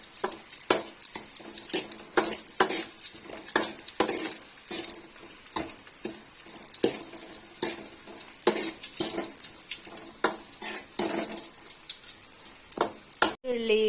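Curry leaves fry in hot oil in a pan, giving a continuous crackling sizzle peppered with rapid pops and a few stirring scrapes. It is moderately close, with no clear speech.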